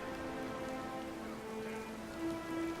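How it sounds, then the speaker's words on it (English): Steady storm rain hissing at sea in Pillars of Eternity 2: Deadfire, a continuous even wash of downpour with a soft low rumble and faint sustained music tones beneath, no voices. "The wind drives the rain at an angle so sharp as to be almost sideways."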